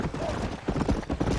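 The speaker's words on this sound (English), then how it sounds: "I'm riding on a horse" Horse hooves clip-clopping in the Red Dead video game, a steady rhythmic patter of mid-level steps mixed with game sound and some voice underneath.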